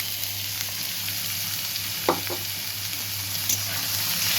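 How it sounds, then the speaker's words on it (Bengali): Chopped carrots and onions frying in a pan, a soft steady sizzle with a couple of brief scraping stirs of the spatula, close and quiet with no talking. "ভালো করে এগুলো একটু ভাজা ভাজা করবো।"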